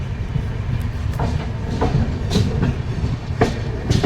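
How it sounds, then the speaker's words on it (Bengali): The Sealdah–Puri Duronto Express leaves Kharagpur station in fog, rolling along with a rhythmic clickety-clack of wheels over rail joints, a low rumble beneath and periodic sharper clanks, fairly close. "ফাইনালি খড়গপুর থেকে ট্রেন বেরিয়ে যাচ্ছে"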